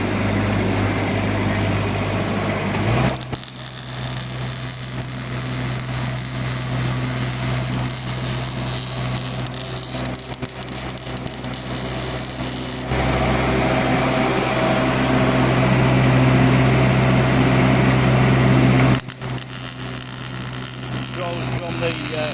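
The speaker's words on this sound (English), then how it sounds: "Quick weld test on the wire feed unit." A Miller Big Blue 400X Pro engine-driven welder runs loud and steady during a MIG weld test with a suitcase wire feeder, a continuous engine drone whose pitch and load shift at a few points, with speech in the mix.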